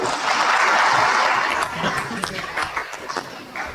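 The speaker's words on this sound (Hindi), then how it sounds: "इसके लिए तालियां बजाइए सहन साहब" An audience at a live government event in Bhopal's Minto Hall claps loudly for a couple of seconds, then the applause thins into scattered claps as a voice resumes speaking.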